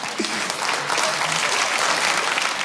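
Steady audience applause fills the whole stretch, dense and even clapping from a crowd with no pauses.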